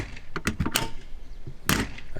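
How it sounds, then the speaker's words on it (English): A heavy RV luggage door with a slam latch is worked, giving a quick run of knocks and clatter before one loud, sharp slam near the end, with no speech. "Those are heavy doors with slam latches."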